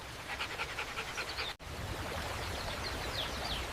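A puppy pants rapidly and rhythmically close to the microphone, with a brief cut partway through and steady breathy panting continuing afterward.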